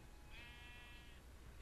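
A single sheep bleat from the video game Minecraft, a drawn-out wavering cry lasting about a second, clear over a steady low background hum.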